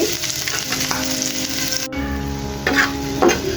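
Green chillies frying in a pan over medium heat, a steady close sizzle with a sharp scrape of the spatula partway through and a few louder bursts of stirring near the end, with no talking.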